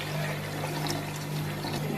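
Water being added to a pan of tomato-paste curry while cooking, a steady continuous pouring and sizzling wash with no talk.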